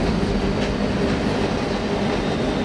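A westbound stack-and-rack freight train led by a single ES40DC locomotive rolls past, a close, loud continuous rumble and clatter of cars over the rails with no pause.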